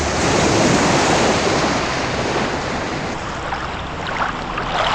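Sea waves roll and wash in a continuous broadband surf roar, loud and steady with wind noise buffeting the microphone, easing slightly toward the end, with no voices.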